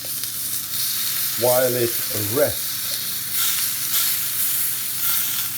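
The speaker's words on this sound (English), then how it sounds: "There's our steak cooking away slowly there." A £5 Morrisons sirloin steak sizzles steadily in a hot pan, a close, continuous frying hiss that runs throughout while a voice briefly speaks over it.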